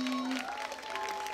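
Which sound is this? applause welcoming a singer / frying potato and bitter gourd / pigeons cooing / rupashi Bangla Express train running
applause welcoming a singer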